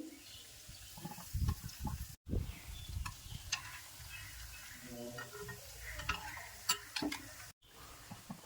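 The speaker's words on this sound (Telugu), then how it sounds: "ఇలా ఈ విధంగా కొద్దిసేపు ఫ్రై అయినాక ఇలా ఒక్కొక్కటిగా తిరగేసుకోవాలి" Bread cutlets made with wheat semolina fry in oil in a pan and are flipped one by one for a sweet. Steady close sizzling runs under intermittent scraping and turning clatter.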